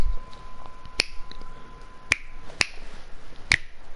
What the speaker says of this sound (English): I'm gonna keep snapping my fingers like that.